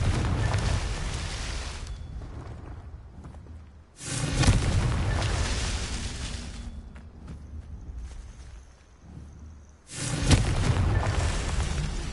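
Confringo blasting spell explosions in Hogwarts Legacy: a deep booming blast at the start, another around four seconds and a third near ten, each with a long rumbling tail between them and no speech.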